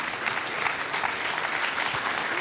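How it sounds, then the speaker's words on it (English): An audience claps for panelists at a discussion panel event, a steady dense round of applause from a crowd, moderately distant, with no voices over it. "So if we can give a round of applause for all of our panelists, we're going to open it up for questions."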